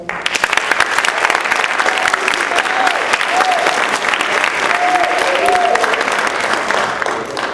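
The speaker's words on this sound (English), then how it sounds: "Let's show Ms. Pope our appreciation by a round of applause" Loud, sustained audience applause for an honoree at a women's basketball hall of fame event, dense clapping throughout with a few cheers and whoops rising above it.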